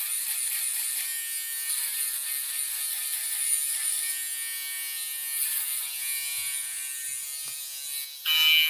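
A cordless USB-C rechargeable electric shaver buzzes steadily through a mid skin fade haircut at a barber's chair, close and continuous with a fine metallic whine, then jumps louder in a short burst near the end.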